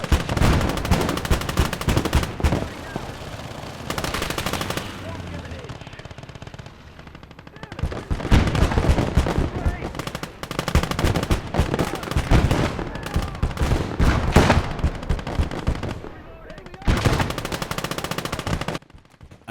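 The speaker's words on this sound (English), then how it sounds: "another man takes over as gunner on the dug-in machine gun" Machine gun fire in the WWII strategy game Call to Arms: Gates of Hell from a dug-in gun position, with loud sustained automatic bursts broken by short pauses and mixed with other battlefield gunfire.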